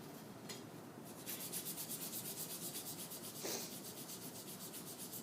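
Fine sandpaper rubbing steadily on metal in quick, even back-and-forth strokes, a soft continuous hiss heard close by.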